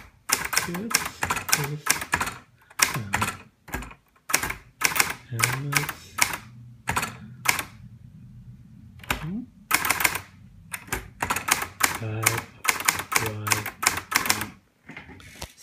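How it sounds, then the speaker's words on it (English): Keys clack on a Hermes 3000 portable typewriter in loud, close bursts of rapid strikes separated by short pauses, with someone talking briefly over the typing. "This is a Hermes 3000 typewriter."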